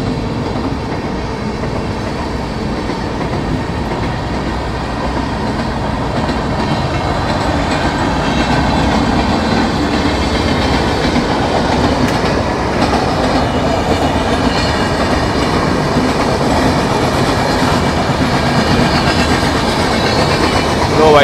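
Durg Nizamuddin Humsafar Express running at night while another train overtakes on a parallel track, a loud continuous rail roar with rhythmic clickety-clack of wheels, close and steady for the whole stretch.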